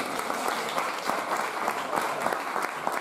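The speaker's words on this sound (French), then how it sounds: "On l'applaudit encore, Fanny." Sustained applause from a beauty pageant audience, dense and steady clapping that fills the room evenly for its whole length, with no voices rising above it.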